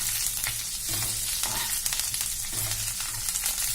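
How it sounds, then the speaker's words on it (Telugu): Curry leaves fry in hot oil, washed and dried first, for a curry leaf powder: a steady close crackle and sizzle with bursts of spitting throughout, no voices. "కరివేపాకు చిటపట అంటుంది కదా. కరివేపాకుని ఎప్పుడైనా నీట్గా వాష్ చేసుకుని కడుక్కొని ఒక గుడ్డ మీద ఆరబెట్టుకోవాలి. నూనె వేసి వేపుకోవాలి."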